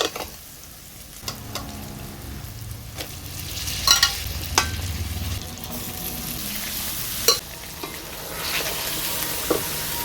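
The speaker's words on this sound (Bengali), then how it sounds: "এবার এতে আমি দিয়ে দেব সেদ্ধ করে রাখা রাজমা।" Boiled kidney beans are stirred into frying spice masala for rajma, with a soft continuous sizzle and scattered sharp clinks of a spoon against the pan.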